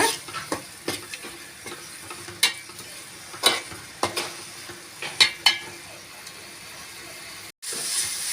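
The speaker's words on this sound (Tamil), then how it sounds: "இஞ்சி பூண்டோட பச்சை வாசனை போகிற வரைக்கும் நல்லா வதக்கி விட்டுக்கோங்க" Ginger garlic paste sautéing with onions in a pan for Kola fish kulambu: a steady sizzle and hiss under repeated clinks and scrapes of a spoon stirring against the metal, close and continuous with a brief gap near the end.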